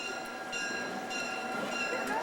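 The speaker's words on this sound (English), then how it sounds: "And now our engine will be passing us on the siding to the left." A train engine passing on a siding alongside a moving Mount Hood Railroad excursion train, a steady rumble with a faint tonal horn-like hum, moderately distant and fairly quiet.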